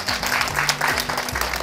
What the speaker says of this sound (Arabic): تصفيقة تصفيقة تصفيقة